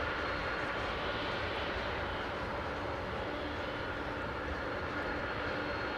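A jet airliner's engines spool up with a loud, steady broadband roar as it powers onto an inclined runway entry at London Heathrow Airport, heard from a distance without pause.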